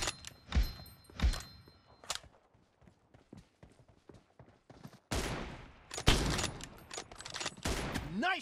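Sharp gunshots ring out in the video game PUBG Mobile, apparently from M24 sniper rifles, with a few loud isolated cracks early on, then quieter ticks and a dense burst of heavy shots at the end.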